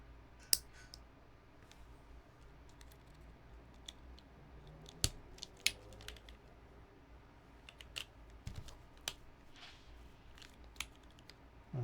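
Keyboard keycaps are pressed and clicked in a quiet room, giving sparse, sharp clicks and taps at irregular intervals over faint background hiss.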